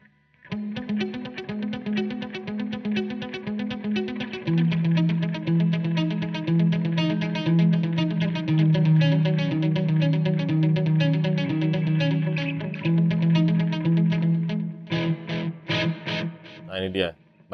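Electric guitar chords pass through delay and reverb pedals running in parallel, giving a full, echoing, ambient wash with repeating notes; the playing holds steady, then breaks into a few sharper strums near the end.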